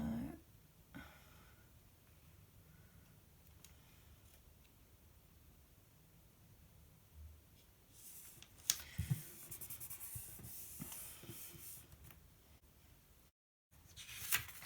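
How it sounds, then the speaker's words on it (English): Tombow correction tape is rolled across a planner page, faint soft scratchy strokes close by, with a brighter swipe around the middle before a brief silence. "Using my Tombow correction tape."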